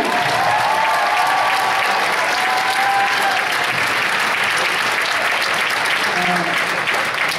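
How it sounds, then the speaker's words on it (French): Steady applause from a large audience at a live bilingual stand-up comedy show, a dense wash of clapping that holds for the whole stretch, with faint cheers near the start. "Give yourself a round of applause."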